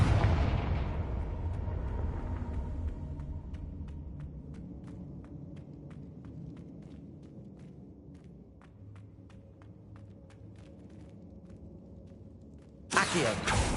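Confringo blasting spell from Hogwarts Legacy: a loud initial burst fading into a long rumbling decay, with scattered crackling ticks through the tail and a sharp new burst at the very end.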